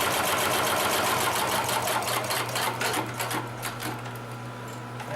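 A Consew 733R-5 heavy duty lockstitch sewing machine runs steadily, its rapid needle strokes forming a close, loud mechanical chatter that eases slightly toward the end.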